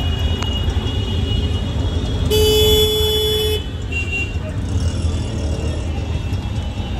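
Riding in an auto rickshaw from Thane toward Balkum, the engine drones loudly and constantly amid road noise, with a sustained horn blaring for about a second midway.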